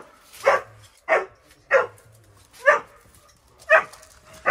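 A dog barks in five sharp, evenly spaced bursts at close range, indoors on a misty autumn morning, with no talking over it.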